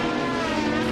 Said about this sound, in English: The Kaiju is driving a 1998 Porsche